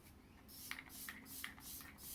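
Glowy setting spray mists onto a face as a steady, close breathy hiss lasting about a second and a half, with a few faint clicks over a quiet room tone and no talking.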